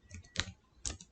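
A few keystrokes on a computer keyboard while typing into the Windows 11 Start search: scattered light taps, with two sharper clicks standing out, close and fairly quiet, no voices.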